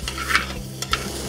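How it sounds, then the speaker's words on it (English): Chestnuts are tossed in a claypot with braised pork belly, giving a soft stirring scrape and faint sizzle over a low background hum, with a few short clinks. "Add the chestnuts. And just toss this for about a minute."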